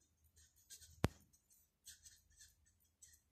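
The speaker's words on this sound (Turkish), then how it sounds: "Hemen bunu da yazalım." A teacher writes on a board during a biology lesson on embryonic development, giving one sharp tap followed by brief scratchy strokes, quiet and close, with no talking.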